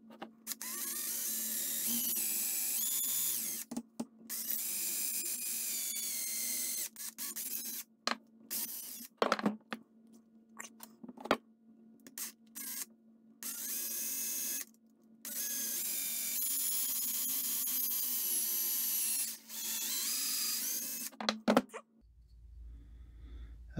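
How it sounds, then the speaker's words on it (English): Drill with a 1/8 inch bit boring into a wooden bonefish popper, several sustained high whining bursts of a few seconds each separated by short pauses, close and prominent. "I'm using a 1/8 inch drill bit, which is just slightly bigger than this twist wire right here."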